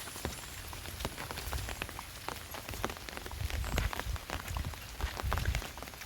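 Steady rain pattering on a surface, dense and continuous with scattered louder drops, no voices.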